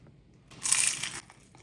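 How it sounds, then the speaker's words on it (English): A single loud, crisp crunch as a bite is taken into a piece of homemade fried cod, a broadband crackle lasting about half a second over an otherwise quiet kitchen. "Come on in for the crunch."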